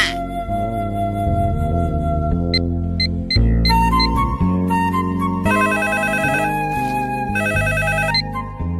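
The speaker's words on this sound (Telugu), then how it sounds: "అబ్బా, ఈ ఫోన్ చంపేస్తున్నా" A synthesized musical telephone ringtone plays loud and continuous, cycling through a bright repeating melody with no voices over it, in a Telugu comedy scene.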